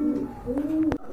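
Pet pigeons, a prized pair offered at a market, coo in a low, rolling, repeated call close by, with a faint sharp tap near the end.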